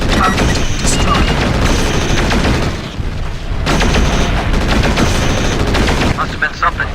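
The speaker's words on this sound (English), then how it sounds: "Looks like pulse lasers. Not much punch, but there's enough of them to do some damage." Pulse lasers firing in the Mechwarrior 4 video game, a dense barrage of rapid booming shots that runs almost continuously and loudly, easing briefly in the middle before resuming.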